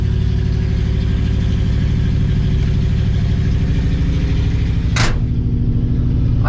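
A 1965 Chevy C10 engine runs steadily after being started, a loud, rough, continuous rumble with a sharp pop or backfire near the end.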